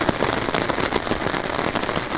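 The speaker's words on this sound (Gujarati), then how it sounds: "4:30 થઈ ગયો છે ને પાછો વરસાદ દેવા મળ્યો છે" Rain falls steadily in the late afternoon in a dense, even patter of drops hitting surfaces close by, loud and continuous with no voices.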